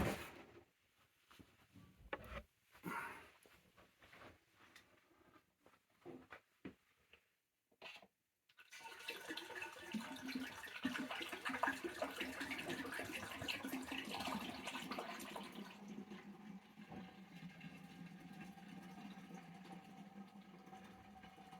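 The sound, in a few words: cider being poured into a fermenting vessel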